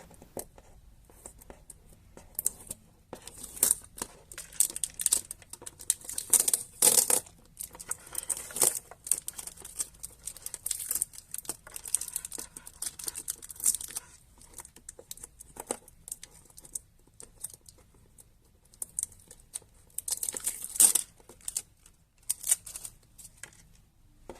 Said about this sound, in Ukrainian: кінці знімаємо скотч